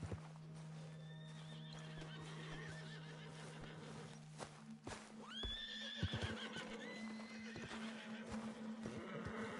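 A horse in Red Dead Redemption 2 neighing in loud rising whinnies around the middle, with hoof clip-clops and snorts throughout over a low steady game hum and no speech.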